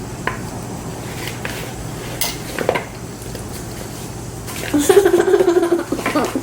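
Apple crisp mixture stirred in a bowl with a utensil, clinks and scrapes against the bowl close up, voices talking briefly over it.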